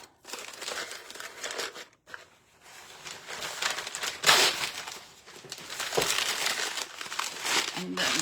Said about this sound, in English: And I just like to use my packing paper.